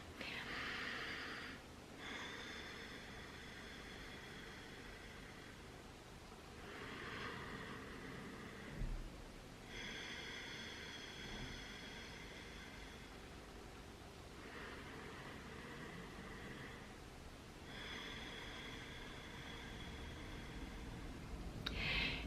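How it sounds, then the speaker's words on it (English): Slow, deep breathing in a calm guided relaxation, with several drawn-out breaths recurring at steady intervals, each lasting a couple of seconds, fairly close and soft, with quiet pauses between them and no talking. "take 3 deep breaths, inhales and 3 exhales, and try to breathe with your tummy"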